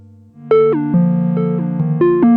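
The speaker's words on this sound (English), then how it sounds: "Let's add some simple delay." A synthetic, tonal guitar-like line of a few plucked notes through a Meris Mercury X pedal's simple delay, each echoing with a short repeating delay, loud and close.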